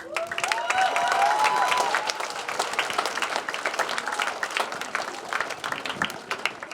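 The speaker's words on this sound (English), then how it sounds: "how about a big round of applause for Sarah?" Applause at an outdoor Memorial Day celebration in Parker, a crowd clapping loudly at first and then settling into steadier, thinner clapping that carries on throughout.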